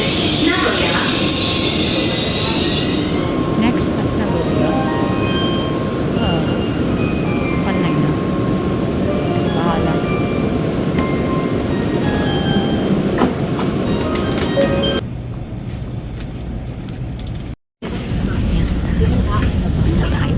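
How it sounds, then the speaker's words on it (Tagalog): A Shinkansen Nozomi 311 train sits at track 3 of a Japanese station platform, its loud rumbling and clattering heard under a spoken announcement before the sound drops away and briefly cuts out. "The train at track number 3 is Nozomi 311 bound for in Osaka via Kyoto."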